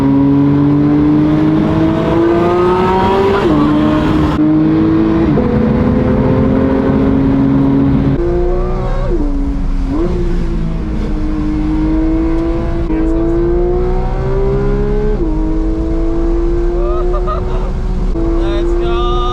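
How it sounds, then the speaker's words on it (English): Several supercar engines roar past one after another, their pitch climbing as they accelerate, loud and continuous, with a steady low rumble underneath. "Cars coming. Give them plenty of room."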